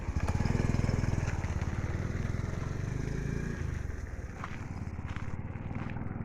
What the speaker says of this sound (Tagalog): Ayun yung aking motor.